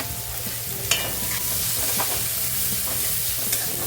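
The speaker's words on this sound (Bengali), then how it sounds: "লাল লাল করে ভাজা ভাজা করে নিতে হবে পেঁয়াজটা" Chopped onion, green chilli, ginger and garlic sautéing in a pan, a continuous sizzle with a few short stirring scrapes and clicks.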